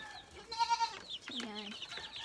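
Young chickens kept in a coop, now growing and moulting, give a few clucking calls. The calls come as short pulsing bursts, moderately close and fairly loud, and the rest of the sound is quieter.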